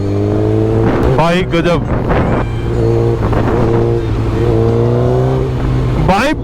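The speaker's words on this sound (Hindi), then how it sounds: "मेरे को ना ऐसी लाउड बाइक चाहिए थी और थोड़ी लाइट" A loud superbike engine revving hard while riding, rising and falling through gears with sharp throttle blips and a steady roaring drone, heard close with a voice briefly over it.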